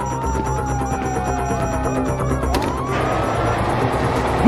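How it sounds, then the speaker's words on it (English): A wailing police siren in Grand Theft Auto V sweeps up and down over a rumbling engine, loud and continuous, with a sharp burst near the end. "you hear that? Siren."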